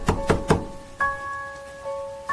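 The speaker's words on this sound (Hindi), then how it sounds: "उधर दरवाजे पर धक्के की आवाज बढ़ती ही जा रही थी।" Three heavy thumps strike a wooden door in quick succession, close and loud, followed by a sustained eerie tonal drone that hangs afterward, a horror story sound effect.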